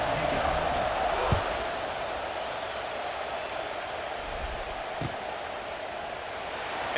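Steady stadium crowd roar from the EA Sports College Football 26 video game, a continuous broad wash of noise with a couple of brief thuds, heard ahead of a kickoff.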